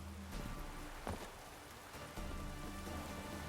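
Steady rain patters on surfaces in a rainy scene from the video game The Witcher 3: Wild Hunt, a continuous close downpour with a brief louder splash near the middle and no talk.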